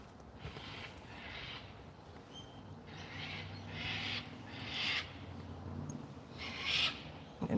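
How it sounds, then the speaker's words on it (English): Birds calling outdoors on a sunny day, with a series of repeated hooting, owl-like calls rising and falling at a moderate distance over a soft background hum. "There are a lot of birds out today, aren't there?"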